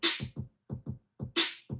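Simple, loud drum pattern from an automatic drummer feature, a steady pattern of close kick-like thumps with two sharp cymbal-like crashes, heard alone with no talking.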